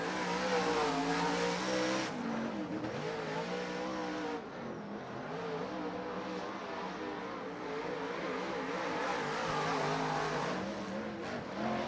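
A modified dirt-track race car at a winter nationals event revs and accelerates, engine pitch rising and falling through gear changes, loud and close, with crowd and track noise behind.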